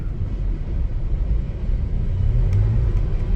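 A liquid-cooled Honda generator starts up and settles into a steady low rumbling drone, close and continuous throughout with no talk.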